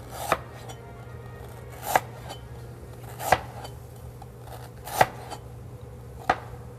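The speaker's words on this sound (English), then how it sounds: "And kalango, another one you just slice it thinly." Hard galangal root sliced thinly with a knife on a cutting board, five distinct, evenly spaced chops over a low steady hum, close and without any talk.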